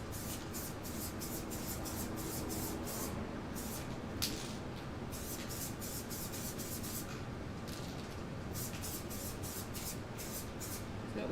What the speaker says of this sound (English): Just gonna spray through this real quick.